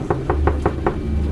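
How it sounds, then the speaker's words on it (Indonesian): Five evenly spaced knocks on a bedroom door, a sound effect for an Indonesian horror radio drama, loud and close over a steady low hum with no voices. "ada suara ketukan pintu di depan kamarku."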